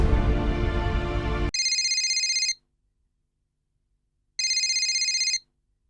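An outgoing phone call rings twice as electronic ringback tones, each burst about a second long with silence between them, after a loud stretch of other sound at the start.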